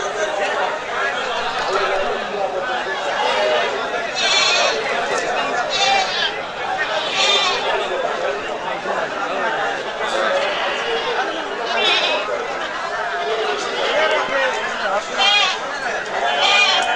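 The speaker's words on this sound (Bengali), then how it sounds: "ছাগল আর ছাগল দেশি জাতের ছাগল" Native-breed goats bleat again and again amid a loud, dense crowd at an Eid sacrificial livestock market, overlapping calls rising above constant chatter.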